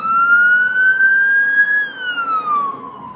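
A loud ambulance siren wails nearby, a single long tone that rises and then falls, standing alone without any voices.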